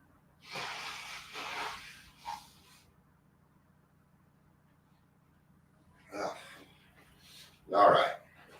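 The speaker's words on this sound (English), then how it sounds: "I need to blow my nose real quick." A few short nose-blowing bursts, loud and close, separated by quiet pauses, with a final strong blow near the end.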